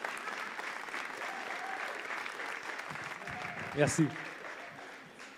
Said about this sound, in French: Est-ce que vous pouvez applaudir, juste pour que je prenne de l'eau?